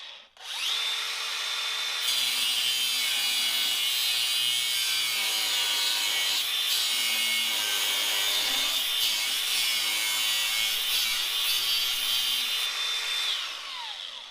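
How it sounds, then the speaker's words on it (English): A power saw cuts through the metal end of an F clamp, a loud, continuous high-pitched grinding whine that runs steadily for several seconds up close before winding down. "So we cut the end of the F clamp off."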